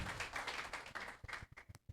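Audience clapping at a talk on essentials to success, a dense patter of applause that thins into a few scattered individual claps near the end.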